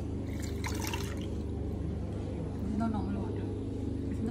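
Cucumber detox water poured from a dispenser in a Google office micro kitchen, a soft brief trickle and splash close by under a noisy room.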